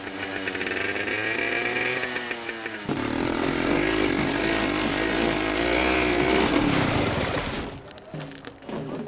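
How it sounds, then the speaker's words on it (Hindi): A motorcycle engine making unusually loud noise runs close by with a raw, buzzing roar. Its pitch wavers and swells for several seconds before dropping away near the end. "ये कैसा साउंड है? हाँ? ये बाइक का है?"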